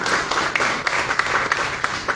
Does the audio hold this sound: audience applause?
yes